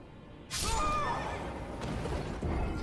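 A sudden, loud horse whinny in the video game Elden Ring bursts out and trails off, followed by steady rushing background noise.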